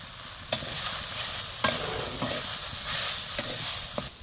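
Cluster beans with a dry chilli-garlic khardya and chopped tomato fry without water in a kadhai, a steady sizzle broken by several scraping stirs of a utensil against the pan, close and alone.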